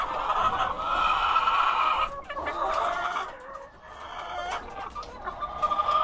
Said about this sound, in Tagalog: Ibang mga manok na naman yan.